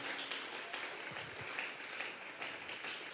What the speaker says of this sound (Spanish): Le vamos a regalar ofrenda de palmas al Dios de la gloria